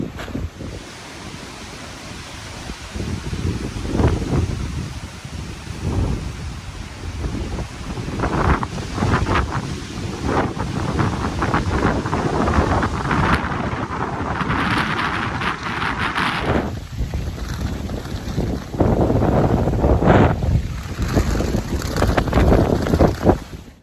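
Chilly wind blows across a hiking trail in Maine near Katahdin, loud gusts buffeting the microphone in a steady roar that swells and eases without speech.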